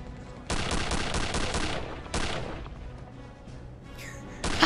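Enemy gunfire in Return to Castle Wolfenstein: loud, rapid automatic bursts crackling in two main volleys, then a faint trailing shot or two and a sharp sound at the end.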